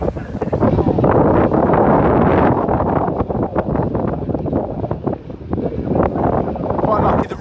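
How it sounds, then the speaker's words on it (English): Strong gusting wind buffets the microphone at Lydden Hill race circuit, a loud, roaring rumble that surges and dips without pause, with a voice briefly audible beneath it. "extremely windy."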